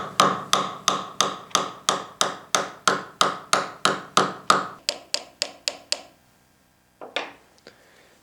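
A small hammer taps a pin into a 1949 steel-head screwdriver being restored, about twenty quick regular strikes in a row, close and crisp, then stops, followed by a couple of softer knocks.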